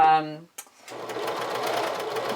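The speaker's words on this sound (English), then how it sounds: "be very careful not to pull the fabric through the machine" A sewing machine stitches fabric for a camisole, starting with a whirring motor hum that builds into a steady close mechanical rattle, after a brief voice at the start.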